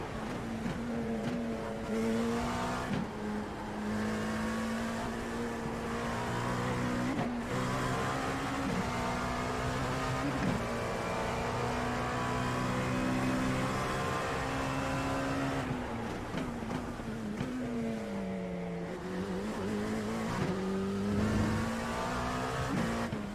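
A Dallara P217 LMP2 prototype race car in iRacing, its engine droning steadily and climbing through gears with brief dips at shifts, close and continuous for the whole stretch, with no voices.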